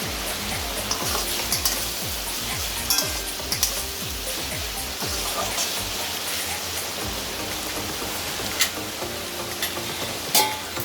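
Slit green chillies go into a Bengali curry frying in a pan, a continuous dense sizzle with irregular crackles and faint stirring scrapes, steady throughout at moderate level.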